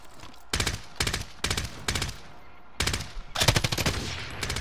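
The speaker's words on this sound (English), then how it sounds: "I'm gonna ladder him with bullets" Bursts of automatic machine gun fire in Call of Duty: Modern Warfare, several loud rapid volleys separated by short pauses, with no talk over them.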